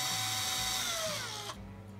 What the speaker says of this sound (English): So I'll just drill these pilot holes